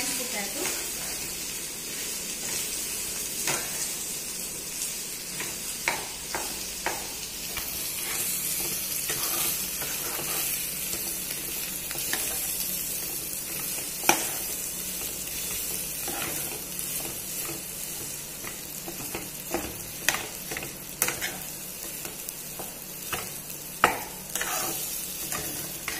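Boiled mashed potato for samosa filling is stirred in a hot pan, with a soft continuous sizzle broken by scattered scraping and tapping of the spoon against the pan.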